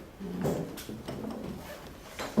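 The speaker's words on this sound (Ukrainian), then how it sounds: "зараз я позабираю трішки стільці" Chairs are dragged and shifted across the floor at a small indoor gathering, with several short scraping and knocking movements close by and no talk over them.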